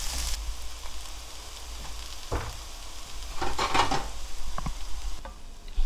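Beef and oyster mushrooms are stir-fried in a pan, giving a steady close sizzle with clattering stirring scrapes and a few louder clacks of the utensil.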